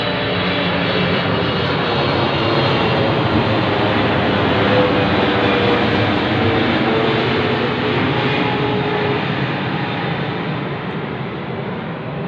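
A low-flying airplane passes close overhead, a loud, broad, continuous engine roar that holds steady for several seconds before easing slightly as it moves on.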